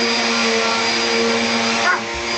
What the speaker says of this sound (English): The Hoover fights back.